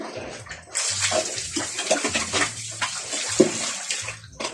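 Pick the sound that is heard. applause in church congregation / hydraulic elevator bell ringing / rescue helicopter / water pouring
water pouring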